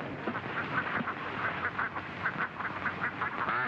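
Ducks quack repeatedly in a steady, fairly close chorus of overlapping nasal calls, with no voices heard.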